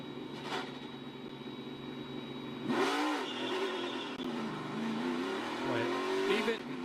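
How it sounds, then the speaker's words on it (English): A NASCAR race car eases down pit road at a Can-Am Duel 150, its engine burbling and revving with rear tires chattering, while commentators talk over the steady mechanical drone. "you hear the chatter of the rear tires"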